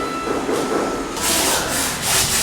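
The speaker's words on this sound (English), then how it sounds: "back on sanding duty" Abrasive sanding scrapes across a ceiling channel in a house under construction in the Philippines, a loud rasping rub that steps up in intensity midway and pulses in repeated strokes.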